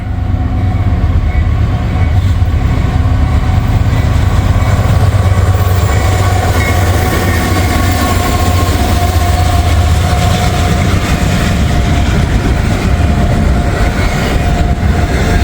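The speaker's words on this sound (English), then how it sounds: "Looks like he's only got 2 locomotives today." A freight train pulled by two locomotives, 196 axles long, rolls past close by with a loud, continuous low rumble and rattle of cars that holds steady throughout.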